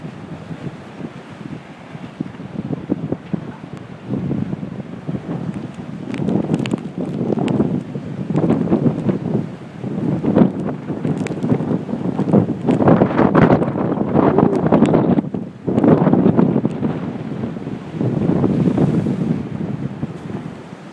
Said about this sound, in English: Very violent, the Hudson River.